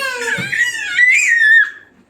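A young boy screams and cries in loud, high wails lasting a couple of seconds, then trails off, with no other talk over it.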